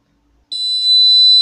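After a short pause, a fingerprint attendance system's buzzer sounds a loud, steady, high-pitched electronic tone, rejecting an unauthorized fingerprint; it starts abruptly and holds to the end.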